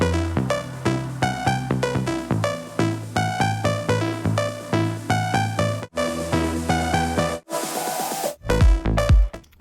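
Bright synth lead from a track plays a rhythmic, stepping melody over pulsing beats, then drops out briefly before a noisy swell and heavy hits near the end, no voices.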